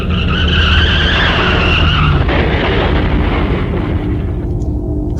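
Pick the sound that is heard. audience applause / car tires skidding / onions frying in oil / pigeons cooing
car tires skidding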